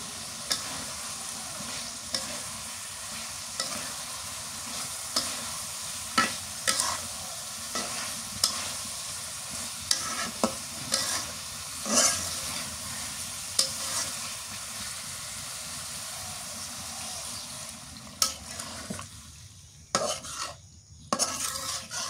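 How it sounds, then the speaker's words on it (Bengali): Kakila fish stir-fried in a pan in a village kitchen, with a steady sizzle and repeated scraping and stirring clatter of a utensil against the pan, close and alone with no talk. "মাছগুলো দিয়ে দিই, মাছ দিয়ে কষান করে নিই।"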